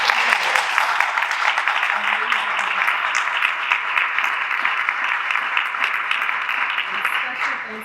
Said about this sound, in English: So let's give a round of applause to all of our